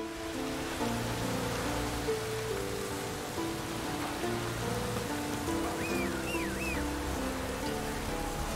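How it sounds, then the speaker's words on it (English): Steady rain in the video game The Witcher 3 hissing over a sustained musical score, a constant wash of falling water with no voices, with a faint bird call partway through. "Looks like rain."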